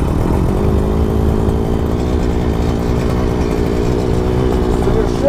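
Husqvarna 226R trimmer engine running steadily just after starting at an outdoor trade show, a loud, constant droning hum with no pauses, close by.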